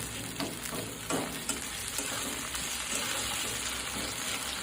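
Potatoes and tomatoes sauté in a hot pan with a continuous soft sizzle. Occasional scraping stirs sound close by, and no voices are heard.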